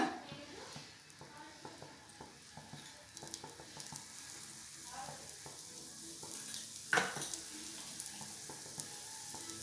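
An onion dosa frying in ghee on a hot pan gives a steady close sizzle with crackling pops and a few scraping stirs.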